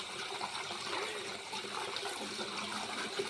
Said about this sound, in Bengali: আমার কল ধরবার লাগে না, এমনি জল বার হচ্ছে, একদম জাদু